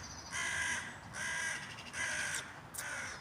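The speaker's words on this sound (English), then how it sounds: "There's lots of birds here." Four crows give repeated harsh caws at an even pace, moderately distant and fairly quiet, with no talking.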